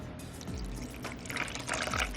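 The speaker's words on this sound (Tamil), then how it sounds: "இந்த புளி கரைசலை நாம் அதில் விட்டுடலாம் பாருங்கள்" Tamarind extract, squeezed from a lemon-sized lump of tamarind, is poured into a cooking pot, giving a soft, close liquid pour with light splashing that grows slightly louder toward the end.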